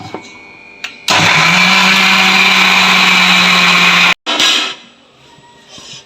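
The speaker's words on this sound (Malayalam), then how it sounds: "ചൂടാറി നമ്മൾ ജാറിലിട്ട് നല്ലോണം പേസ്റ്റാക്കി അരച്ചെടുക്കുക ചെയ്യട്ടോ" An electric mixer jar grinds coconut into paste with a loud, steady motor whine for about three seconds, cuts off abruptly, gives a short second spurt, then falls quiet under a single spoken word.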